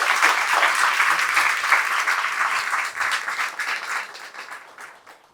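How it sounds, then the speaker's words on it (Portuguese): An audience at a family event bursts into loud applause that gradually thins and fades over about five seconds, with a hint of voices underneath. "E uma salva de palmas para vocês."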